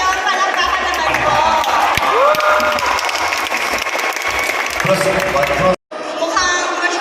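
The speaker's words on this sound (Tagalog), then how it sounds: "So kung nagustuhan niyo yun, palakpakan naman po." Applause and cheering from a large crowd at a mall show, loud sustained clapping with scattered whoops. A host speaks over the noise, which cuts out briefly before resuming.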